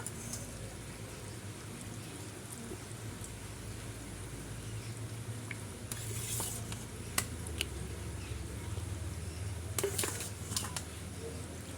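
Pieces of fish going one by one into a simmering, oily curry: a continuous soft sizzle and bubbling with several sharp splatter bursts and faint clicks of utensils, no voices.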